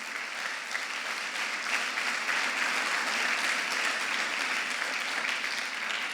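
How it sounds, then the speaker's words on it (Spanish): A church congregation applauds for Jesus, dense sustained clapping from a large crowd holding steady and loud for several seconds, with no speech over it. "Fuerte ese aplauso a Jesús."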